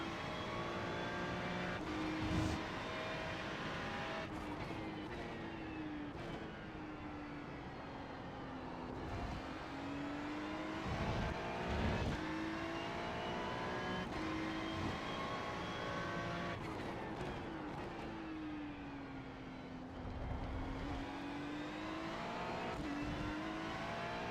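Ferrari 296 GT3 race cars lapping Algarve International Circuit in iRacing, engines roaring steadily with repeated downshift blips and rising revs as several cars run close together, no talk.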